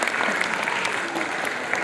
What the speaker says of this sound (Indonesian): Tepuk tangan untuk panitia semua.